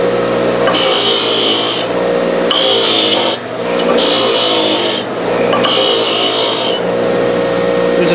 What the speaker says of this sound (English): This is just a steel wire brush.